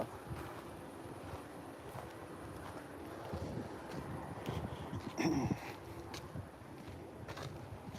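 Wind at a railroad crossing buffets the microphone in a continuous low rumble, quiet overall with gusty swells and a brief sharper noise near the end.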